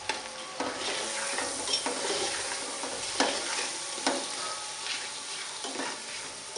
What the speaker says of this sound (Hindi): थोड़ा भूनेंगे